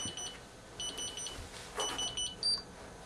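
A timer beeps in short repeated bursts of high electronic tones during a temperature experiment on oil spill effects, several clusters spaced across a few seconds over a quiet background.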